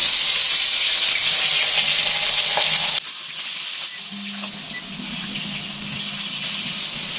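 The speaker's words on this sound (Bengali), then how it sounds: "প্রথমে রুই মাছের মাথাটা ভেজে নেব।" Hot oil sizzles steadily as a rohu fish head fries in a wok. The hiss is loud at first, then drops to a quieter, steady crackle partway through, with no talking.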